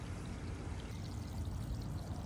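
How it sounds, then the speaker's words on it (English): A garden hose pours a steady stream of water onto plants in a garden bed, a continuous close rushing splash with no voices. "So now I need to just let that water hose just water them and soak them with the goodness."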